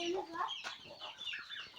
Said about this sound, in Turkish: Burada tavuklarımız, civcivlerimiz.